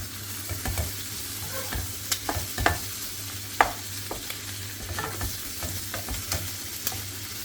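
Chicken gizzards sizzle in butter with red pepper flakes, black pepper and salt, stirred with soft scraping clinks over a constant close frying hiss; no one speaks.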